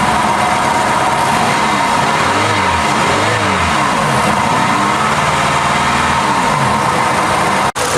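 A 1996 Pontiac Sunfire engine running at idle with a misfire after a fuel injector swap, giving a close, steady mechanical drone with uneven low pulsing, cut off abruptly at the end.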